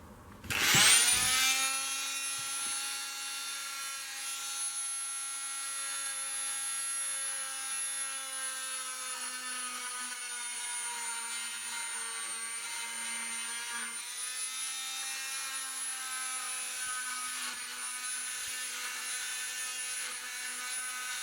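A high, steady whine of a power tool running continuously on wood while removing wood to fit a stained glass window, starting with a loud bite and holding a sustained grinding tone.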